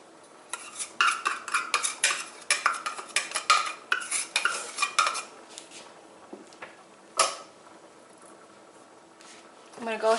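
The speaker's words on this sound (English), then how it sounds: "I'm going to go ahead and stir it just to make sure that it won't burn the bottom" A spoon stirring potato soup scrapes and clinks against a metal pot in quick, uneven strokes, close by, with a few louder knocks and pauses between bursts.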